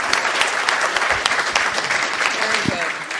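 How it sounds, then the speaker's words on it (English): Sustained audience applause closing a CISO panel at a Tampa, Florida cybersecurity conference, dense steady clapping from a crowd with voices mixed in. "Everybody give a round of applause."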